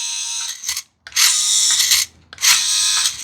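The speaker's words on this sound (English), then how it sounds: "when it turns, that servo motor keeps trying to turn" The steering servo motor of an RC rock crawler strains in two loud, whining buzzes about a second each, separated by short pauses, close and alone.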